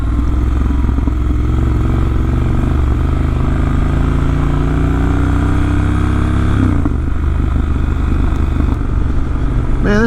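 An adventure motorcycle fitted with a Zard exhaust rumbles loud and close on a Smoky Mountains ride, its engine note steady and deep before climbing in a rev and then settling back down.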